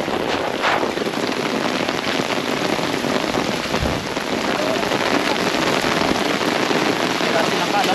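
Heavy rain pours down during a flood near a dam, a loud, dense, constant hiss of drops hammering surfaces, close and unbroken throughout.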